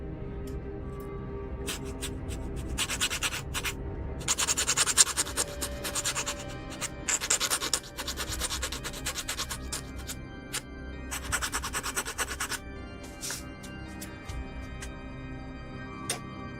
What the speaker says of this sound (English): I kind of have to like sand down the imperfections everywhere.